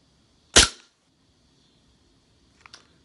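A KWC .50AE Desert Eagle airsoft pistol fires one sharp, loud semi-auto shot with a metallic clank, followed after a pause by a fainter, shorter double click, heard close with no talk.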